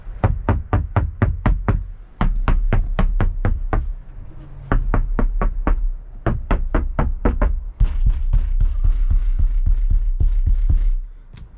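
Knuckles rap on the reinstalled headliner of a 1999-2004 Jeep Grand Cherokee in brisk, loud, close series of solid knocks, pausing briefly between runs.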